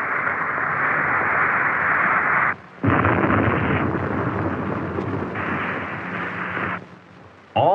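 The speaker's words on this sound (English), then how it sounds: "Witness this launch of a Titan II." A Titan II missile destroyed during a test launch, heard as a loud, sustained roaring rumble that cuts out briefly, resumes with a heavy blast-like surge, then fades near the end, with no speech.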